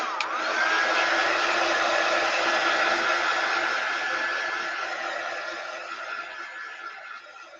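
A hair dryer blows steadily to dry a chalk-decorated tiered tray made from dollar-store chopping mats. The loud, even whoosh runs alone for several seconds, then eases slightly toward the end.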